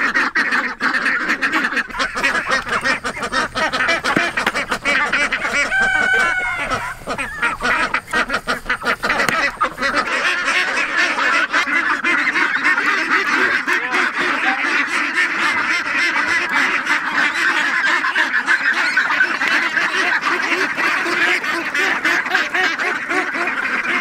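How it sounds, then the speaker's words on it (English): Skittish, mouthy farm ducks honk and quack steadily, with a dense overlapping chorus of calls close by that runs without a break and no talk over it. "Now we're gonna go see ducks that are much different from these. They're much more mouthy"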